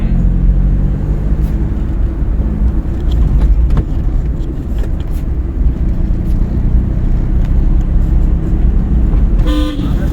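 A car engine idles and hums steadily through a driving lesson as the learner works the clutch and shifts toward second gear, with a low continuous rumble, passing road noise and a brief horn-like tone near the end.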